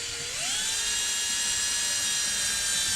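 A small high-speed rotary drill used for sculpting a Morgoth figure whines up to speed within half a second, then holds a steady, piercing, close-up tone throughout.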